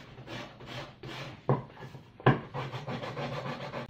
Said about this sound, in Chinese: 这是木砂纸，用木砂纸把它蹭一蹭。